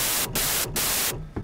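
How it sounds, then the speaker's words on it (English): White noise from the Operator synth in Ableton Live, played as three bright bursts of full-band hiss. Brief silent gaps cut between them, like notes held and released. "you've basically got white noise which will play whenever you hold down a MIDI note"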